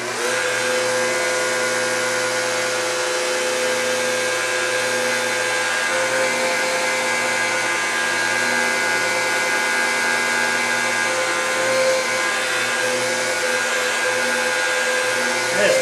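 A power buffer runs steadily on car paint, a loud continuous mechanical whir with a droning hum that holds even for the full length without pause.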